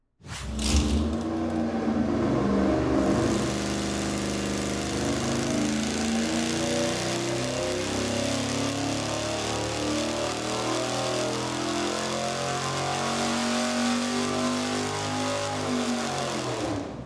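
A dual-quad carbureted V8 on an engine dyno fires up abruptly and holds a loud, steady, rumbling drone for the full run, the tone rising slightly partway through, with no talking.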